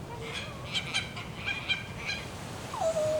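Pearlescent, ground-nesting birds honk and call near their nests, a run of goose-like calls in an irregular series, close and clear, ending on one drawn-out downward note.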